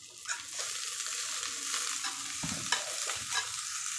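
Onion and garlic frying in a pan with a constant bright sizzle, broken by occasional stirring scrapes and soft knocks of the spoon, close and steady throughout.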